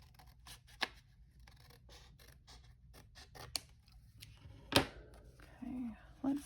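Scissors trim a paper envelope in a quiet room, making several separate close, crisp snips and small paper rustles spread across the moment.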